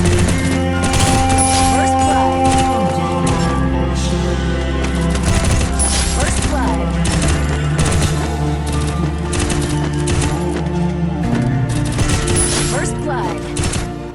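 Dense, rapid gunfire from a mobile shooting game plays on a Redmi 13C phone, with continuous loud bursts of automatic shots layered over game music and effects, steady throughout.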